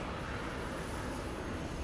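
Airplane engine roars overhead in a steady, loud broadband rush near an airfield, filling the whole moment without voices.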